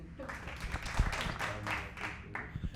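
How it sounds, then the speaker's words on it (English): Quiet, scattered clapping is edited in as an artificial clap track. Irregular claps come and go alongside low voices and background noise. "I did that so I could edit in a clap track."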